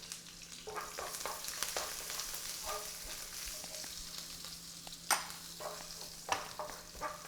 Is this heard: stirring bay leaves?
yes